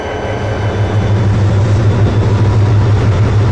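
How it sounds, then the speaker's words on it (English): A freight train in a train simulator game rumbles steadily with a loud, heavy low engine drone and a continuous rolling noise throughout, with no voices. "Joe arrived with a mixed merchandise train from Roanoke."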